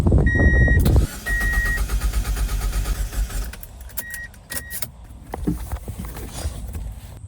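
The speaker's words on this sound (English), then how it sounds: "this sucker just kept cranking and cranking until it basically killed itself" A car engine cranks hard on a portable jump starter, a loud rapid churning for about a second, then a quieter uneven grind continuing with sharp metallic clicks and rattles as the starter struggles.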